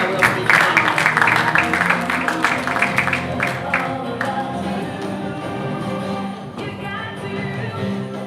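Audience applause for the closing speaker at an International Women's Day program, a burst of clapping for about three seconds that settles into a softer, steady crowd murmur.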